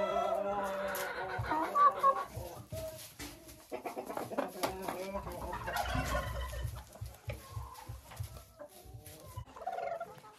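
Chickens cluck and make fowl calls in a crowded coop, several birds overlapping in bursts at close range and moderate volume.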